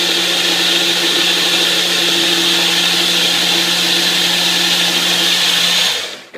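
A kitchen blender whirring loudly while blending greens into a smoothie, a continuous high-pitched motor grind with a steady hum beneath, running unbroken for about six seconds before cutting off abruptly.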